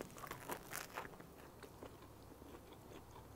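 A bite into a beer brats onion burger, giving a few crisp, crunchy bites and chews up close in the first second, then softer chewing that fades into quiet room noise, with no voices.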